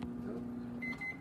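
A kitchen microwave oven is set for 20 minutes, a low steady hum followed by a few short electronic beeps from the keypad, close and alone.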